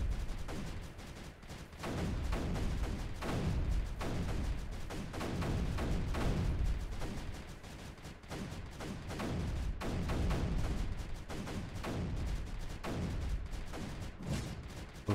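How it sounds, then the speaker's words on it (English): Mortars fire in the video game Creeper World 3, a dense run of repeated booming thumps and crackling impacts that pile up over one another, loud and continuous with brief dips. "But now multiple mortars can hit this."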